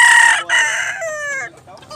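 A rooster at a Cebu cockfighting market crows loudly and close, a single harsh drawn-out call with a break, trailing off into quieter background.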